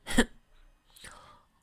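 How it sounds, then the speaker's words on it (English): One sharp, close cough, voiced by a narrator for a character, is followed by a faint breathy exhale. "Carrot Top coughed."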